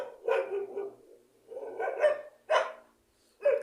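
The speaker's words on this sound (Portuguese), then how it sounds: "O cachorro começou." A dog barks in several separate bursts, loud and close, with gaps of quiet between them and no talking.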